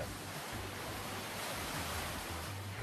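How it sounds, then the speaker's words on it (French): Ocean waves at a surf spot along a wall and rocks in Israel make a steady, faint wash of surf noise with wind rumbling low underneath, no talking. "il y a de bonnes vagues ici, sur toute cette partie de mur et ces rochers là-bas"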